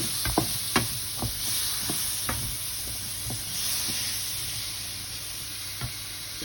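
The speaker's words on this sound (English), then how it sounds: "Add the nicely freshly rinsed chickpeas to the dish, to the pan." Freshly rinsed chickpeas hit a hot pan for a spicy vegan chickpea curry, giving a steady close sizzle broken by scattered sharp clicks and pops from stirring, with no talk.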